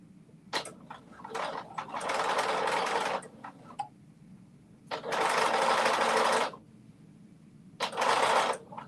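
A sewing machine stitches the front and back bodice of a dress together in three loud, steady runs of about one to one and a half seconds each. Short pauses with faint handling clicks separate the runs.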